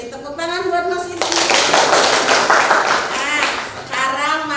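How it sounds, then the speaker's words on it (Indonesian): Classroom clapping for a student after a chemistry answer on acid-base theories, a short burst of hands in the middle framed by a teacher's voice before and after. "Beri tepuk tangan buat Mas Irgi."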